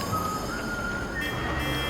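A vehicle reversing in Metal Gear Solid 4 emits a steady high electronic beep tone over a low rumbling engine and street noise, moderately loud and continuous.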